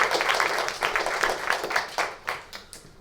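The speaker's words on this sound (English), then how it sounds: "Big round of applause." A conference audience applauds as three panelists walk onto the stage. The dense clapping is moderately loud, then thins out into a few scattered claps near the end.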